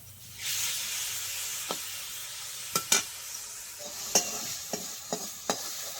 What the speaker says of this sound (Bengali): হালকা করে ভাজবো চিংড়ি মাছটা